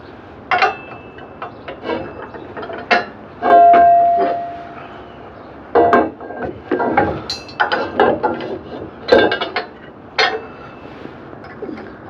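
Truck bed extender arm being fitted and tightened into a receiver hitch: a series of sharp metallic clanks, scrapes and knocks, close and irregular, with a brief ringing metal tone, and no talking.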